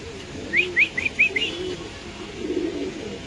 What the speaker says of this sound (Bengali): অরিজিনালি পাকিস্তানি ব্রিড ডেনিশ কবুতর